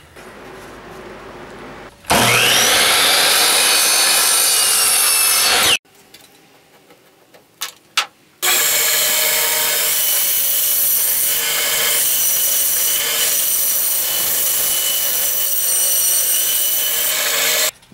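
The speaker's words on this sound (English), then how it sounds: "I have a drawing of what I'm going to cut out on the bandsaw" A bandsaw slicing a wooden sword blank cut from a 2x4 for a Viking sword, loud and continuous: a first roaring cut of about four seconds, a short quiet pause with faint clicks, then a second long steady cut.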